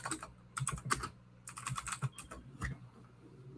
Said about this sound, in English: Clicky keyboard.